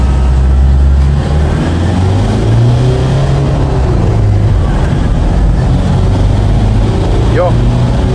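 A Toyota Quantum 2.5D diesel minibus pulls away in first gear with its engine droning loudly and rising in pitch under steady revs, while someone talks over the cabin noise.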